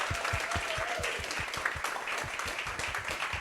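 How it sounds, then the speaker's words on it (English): Audience applause after a talk at a diverse voices speaker event, steady dense clapping throughout with a distinct rhythmic clapper standing out near the front. "Let's give them a warm round of applause."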